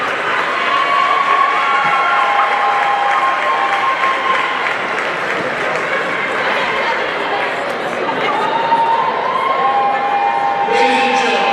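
A high school basketball crowd applauds and cheers for the seniors, loud sustained clapping and chatter filling the gym, with whistles and shouts rising over the steady roar and voices heard throughout.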